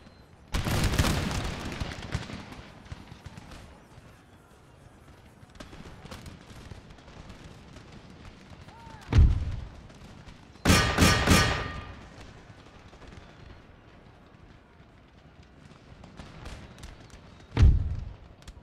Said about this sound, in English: Keep firing, lads. Fire! Give them a good volley.